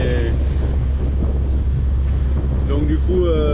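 Steady wind roars over a sailboat at sea off the coast heading toward Sanary-sur-Mer, with a constant low rush of air and water, broken near the end by brief voices.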